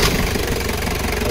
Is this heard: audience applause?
no